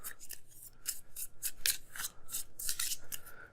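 Cards for a board game are shuffled up close, producing a quiet run of bright, papery swishes and riffles in uneven bursts, alone without talking.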